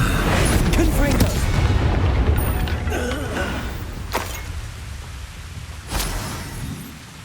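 Confringo spell explosion in Hogwarts Legacy: booming blasts and crackling impacts over rumbling game noise, loud at first and then fading, with a few sharp hits later and a voice speaking.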